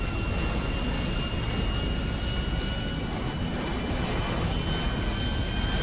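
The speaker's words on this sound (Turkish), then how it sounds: "Şurada uçak var." Airplane in a Turkish cartoon race with superheroes, a steady broadband roar with a faint high whine, continuous and even throughout, with no talk over it.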